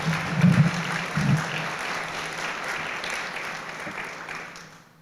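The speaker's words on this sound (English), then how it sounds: "How about a big round of" An audience claps at a guide dog graduation, a steady wash of applause with a couple of low thumps near the start, gradually fading out.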